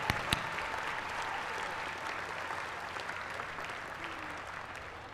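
Audience applause for high school scholars at a dual enrollment ceremony, a soft, distant and steady patter of many hands clapping, with a couple of sharp nearer claps at the start.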